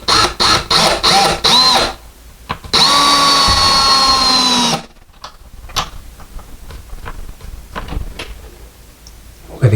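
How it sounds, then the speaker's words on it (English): Electric screwdriver driving a screw for a Moen double robe hook, with short whirring bursts followed by a longer steady run, then quieter handling clicks, close and loud. "I am using an electric screwdriver just to screw it in"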